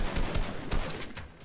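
Rapid gunfire crackles in Fortnite, several sharp bursts in quick succession, loud and close, with no talking over it.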